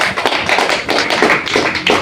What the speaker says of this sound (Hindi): एक जोरदार ताली होनी चाहिए आप लोगों के लिए